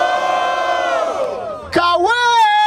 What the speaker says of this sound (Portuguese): Barulho para as rimas do JP